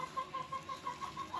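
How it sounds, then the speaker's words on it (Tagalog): A native chicken about to be slaughtered clucks softly in a quick, regular series of short notes, faint and close against a quiet background. "Kakatay siya ng native na manok"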